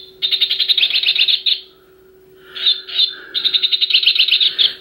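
Electronic bird calls from a Crazy Bird toy, a loud, rapid run of bright chirping trills repeated in two bursts with a short pause between, with a steady high tone underneath.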